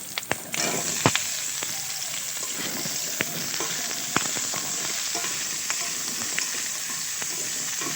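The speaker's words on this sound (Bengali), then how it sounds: "আলুগুলো একটু ভাজা ভাজা হলে একটু মশলা দেবো" Potatoes fry in a pan with a continuous crackling sizzle, broken by sharp clacks of a utensil stirring now and then.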